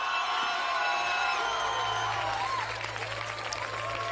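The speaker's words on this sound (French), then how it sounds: "vous applaudissez le plaisir de la voix" A studio audience on the French TV singing game show N'oubliez pas les paroles applauds a singer, a brisk patter of clapping spread across the room alongside lingering tones, gradually thinning out.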